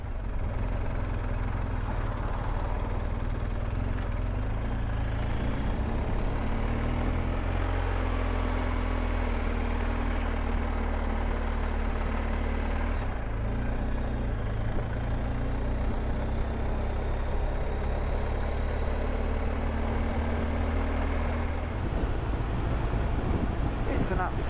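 A BMW R1250 GS motorcycle rides on a sunny morning road in France, its engine a steady low drone under heavy rushing wind noise throughout, with a brief shift in engine pitch partway along.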